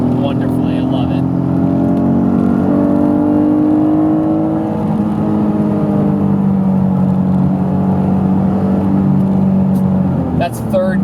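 Honda NSX sports car accelerating hard through third gear on a road, its engine droning loud and close with a steadily rising pitch that holds for several seconds before easing off.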